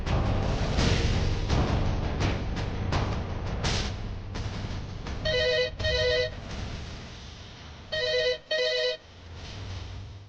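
A telephone rings unanswered in a household scene of a Telugu TV serial, its electronic ring sounding in two short double bursts against background music, with no one picking up.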